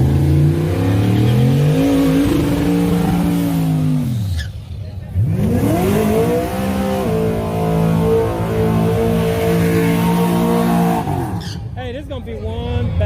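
Drag race cars, including a twin-turbo Camaro, a nitrous LS Mustang and a turbo LS Nissan truck, revving loudly up close in long rising and falling engine sweeps, with a shout and crowd voices over the roar.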